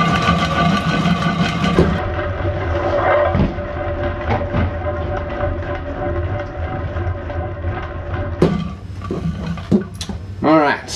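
A spin art machine whirls an acrylic pour tile with a steady motor whine and hum that runs throughout, shifting in tone after the first couple of seconds, with a few sharp knocks near the end.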